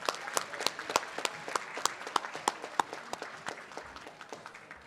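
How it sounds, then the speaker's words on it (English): Audience applause at a Teacher of the Year ceremony, a steady patter of clapping from a seated crowd with a few sharp individual claps standing out, gradually thinning toward the end. "Give them another round of applause."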